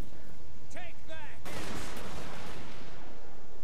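Silver bullet volley fire in Total War: Warhammer, a battle between the Reiksguard and a Green Knight: a sudden loud crackling burst of massed shots erupts and rolls on, following a short spoken phrase.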